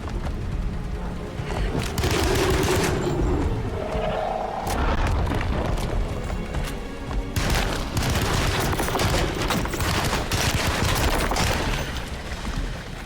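Continuous heavy gunfire from a gun in Alone in the Dark, a dense relentless barrage of loud overlapping shots and booms lasting throughout, close and intense with a brief voice beneath.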